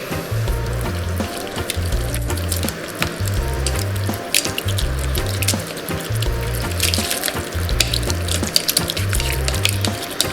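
Water poured from a tap into a bowl of raw bonefish mixture for lomi o'io, a continuous splashing flow with a low rhythmic pulsing beneath it.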